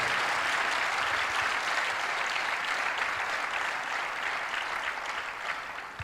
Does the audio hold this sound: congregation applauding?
yes